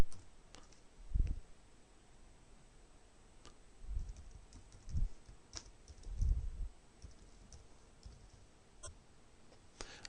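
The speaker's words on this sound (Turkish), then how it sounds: "Daha sonra buna ait e-mail adresini yazıyorum." Typing an e-mail address on a computer keyboard, a few sparse, faint key clicks and soft low thumps spread out over a quiet background, with no talking.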